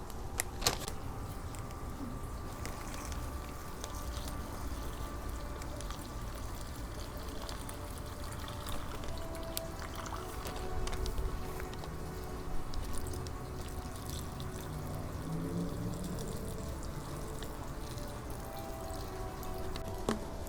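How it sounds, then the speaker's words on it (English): Water from a bottle is poured steadily into an MRE flameless heater bag to the fill line, a continuous trickling and splashing pour that runs throughout, fairly close and alone. "We're going to fill it with water to the line."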